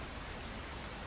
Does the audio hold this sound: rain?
yes